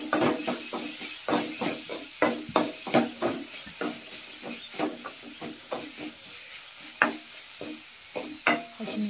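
Sprouted chickpea curry, North Karnataka style, sizzles in a pan while a spoon scrapes and stirs in rapid irregular strokes, close and clear with no voice.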